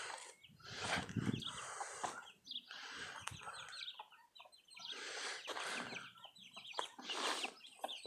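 Several chickens cluck and call in a backyard, a busy run of overlapping fowl calls that rise and fall in bursts over about eight seconds, fairly close and moderately loud with no talk.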